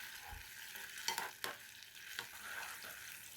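Sauce with garlic and spring onion cooks in a pan, giving a soft continuous sizzle broken by a few quick scraping stirs, quiet and close with no voices.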